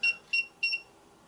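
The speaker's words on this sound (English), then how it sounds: "It yelled, it beeped, but that was the oscilloscope." An oscilloscope gives three short, high-pitched electronic beeps in a quick, evenly spaced row, fairly faint against a quiet hum.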